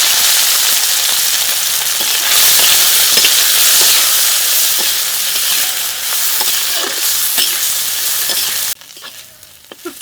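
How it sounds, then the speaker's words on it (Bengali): Dried loitta fish fries in mustard oil in a wok, giving a loud, continuous close-up sizzle with occasional scraping stir strokes before the sound drops off sharply near the end. "কড়াইতে সরিষা দিতে দিয়ে শুটকি মাছগুলো একটু ভেজে নেব"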